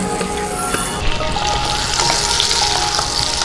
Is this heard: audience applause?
no